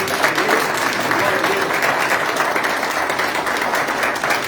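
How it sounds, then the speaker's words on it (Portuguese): A church congregation claps steadily through a worship service, a dense, continuous burst of applause filling the room at close range with no voices above it. "Vamos aplaudir Jesus, as pessoas que estão aqui."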